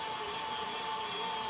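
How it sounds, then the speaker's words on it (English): A meat grinder runs steadily while grinding meat for meatballs, giving off a continuous motor whine with a grinding texture underneath. It is moderately loud and close by, with no voices. "Grind the meat, grind the meat, grind the meat."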